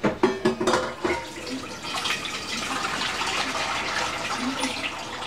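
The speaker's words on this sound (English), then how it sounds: "Let's rinse off this bowl, this pickle thing." A plastic bowl used for pickle mix is rinsed under a running kitchen tap, opening with a few sharp clatters of the bowl before a steady stream of splashing water carries on to the end.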